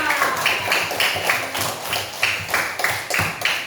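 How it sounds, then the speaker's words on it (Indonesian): A class of schoolchildren claps for a pupil in a classroom, with fairly steady, loud rhythmic clapping throughout and little talk. "tepuk tangan untuk Atar"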